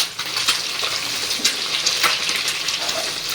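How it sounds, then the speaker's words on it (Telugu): Eggs scrambled and stirred in a hot pan for chicken fried rice give a steady, close frying hiss with occasional soft scraping, and no one speaks. "ఇప్పుడు మెల్లగా మనం ఎగ్ అయితే కదుపుకుందాము."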